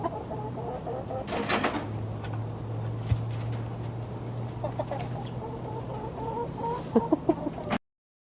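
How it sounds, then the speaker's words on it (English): Laying quail on a homestead, giving repeated soft clucks and chirps close by over a steady background hum, with brief louder bird calls toward the end before the sound cuts off. "This is as close as Jim got to our laying quail."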